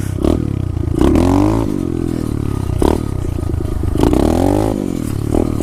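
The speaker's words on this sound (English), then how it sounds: "The bike's still gotta warm up." An SSR 125 motorcycle engine warms up on a frozen, cold morning, idling with a steady rumble and rising in a few revving swells, close and fairly loud with no talk.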